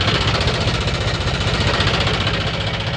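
Tractor engine idling on a ghat road at night, a steady, loud, continuous rumble with a knocking mechanical vibration throughout.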